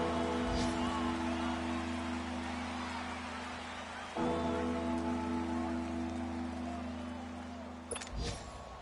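Steady rain falls throughout a football game between Kansas City and Baltimore, a continuous broadband hiss over a low hum with a couple of brief thumps, no clear talk.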